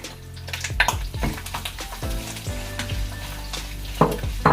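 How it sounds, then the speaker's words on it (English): A large batch of onions fries in oil with a loud, close, continuous sizzle, punctuated by stirring scrapes and occasional bubbling bursts, with no voices over it. "Then I'm going to be frying this for 3 to 4 minutes."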